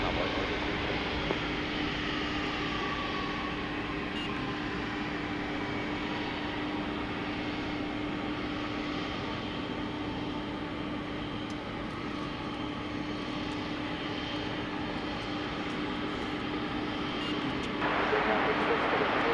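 A UPS heavy jet, Flight 751, departs runway 18 left at DFW Airport at night with a steady, distant broadband roar and a constant engine hum, while faint radio voices come and go.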